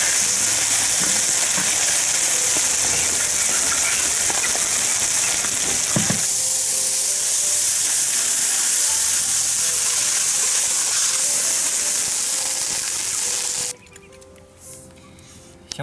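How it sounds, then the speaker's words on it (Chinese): Sichuan peppercorns, dried chilies and seasonings stir-fried in a wok, giving a loud, steady sizzle and crackle for about fourteen seconds before it drops away abruptly near the end. "花椒、大海椒，还有点调料，炒起。"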